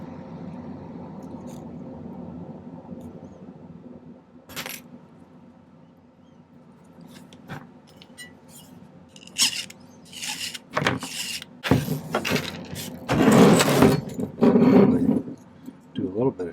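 A silver sheet is cut out into a cone design. A low steady hum comes first, then a run of loud, close scraping and snipping bursts in the second half.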